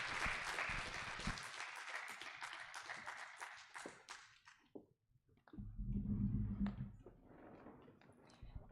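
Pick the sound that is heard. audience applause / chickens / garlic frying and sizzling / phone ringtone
audience applause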